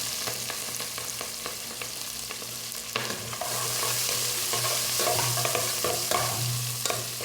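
Onions sizzle in hot oil in a curry pot while a spoon stirs and scrapes nearby, the frying hiss swelling louder partway through, with no speech.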